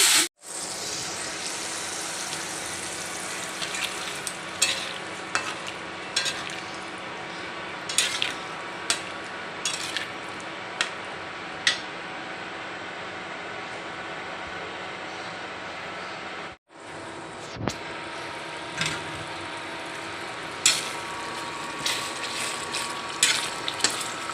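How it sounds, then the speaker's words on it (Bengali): Boiled fish stock poured into spices cooking in a pan, a soft steady sizzle and simmer with occasional clinks of utensil against the pan, close and quiet throughout, with a brief gap partway. "মশলাগুলো দিয়ে দিচ্ছি মাছ সিদ্ধ করা পানিটা দিয়ে দিচ্ছি"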